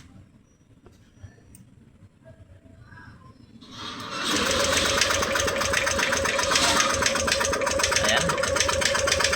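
A Yamaha Aerox 155 scooter engine starts after a few seconds of quiet, then settles into a steady, loud, close idle, with a brief voice heard before the start.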